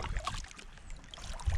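Double-blade paddle strokes push an Old Town canoe across a calm loch, with soft splashes and trickling water close by in two brief pulls.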